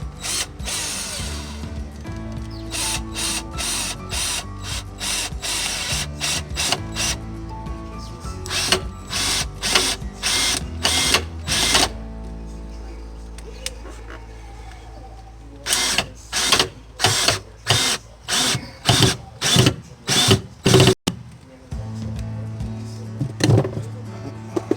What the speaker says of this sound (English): we're gonna screw the supports into the board that was already there